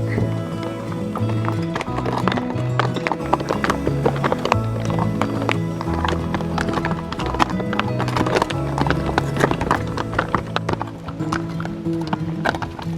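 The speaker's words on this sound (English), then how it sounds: "Following the horses." Hooves clip-clop steadily on hard ground as horses walk on a high mountain route, with a whinny and scattered voices mixed in.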